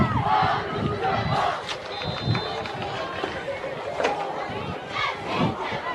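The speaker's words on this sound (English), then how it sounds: "So a nice crowd here at the Legion Field here for the home opener." A home-opener crowd at a high school football game at Legion Field gives off a lively, continuous hubbub of shouts and chatter in the stands, moderately loud and close, with occasional louder cheers.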